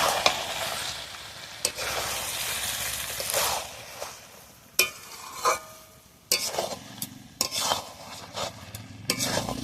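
Masala with garam masala powder stirred in a frying pan for a katla fish head muri ghonto, a steady sizzle broken by repeated scraping strokes of the spatula and occasional sharp clinks against the pan.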